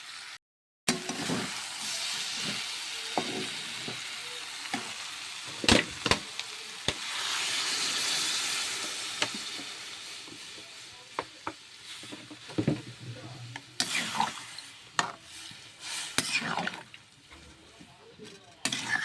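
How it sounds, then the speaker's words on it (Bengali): A pan of pumpkin and potato curry, covered and cooking with water on a home stove, bubbles and sizzles softly at a low level, with occasional clinks and clatters of utensils breaking through. "ওখানে কুমড়ো আলুর তরকারি বসানো আছে"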